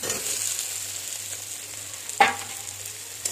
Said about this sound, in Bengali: আলুটা দিয়ে একটু নেড়ে চেড়ে নিয়ে